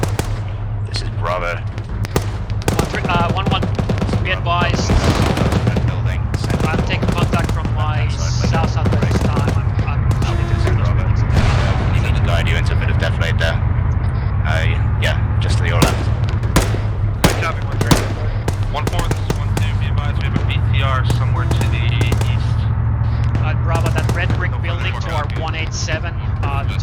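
Dense, continuous gunfire during an infantry firefight in ArmA 3 platoon training, with machine-gun bursts and single shots near and far over a steady engine-like drone, while radio voices talk throughout.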